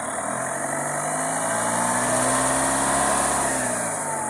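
A Mahindra Thar ROXX engine revving, loud and close, the tone rising steadily and holding high before easing slightly, checked for an abnormal engine-side noise.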